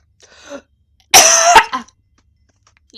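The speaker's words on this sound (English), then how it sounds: "I actually legit coughed." A single sharp cough after a faint throat noise, close and loud, followed by a short trailing rasp and near silence.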